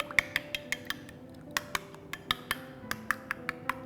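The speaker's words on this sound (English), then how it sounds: "I'm going to mix it slightly with a spoon." A spoon stirs an egg mixture with chopped parsley in a bowl, giving a regular series of light clinks and taps against the dish, close and fairly quiet, with no talking.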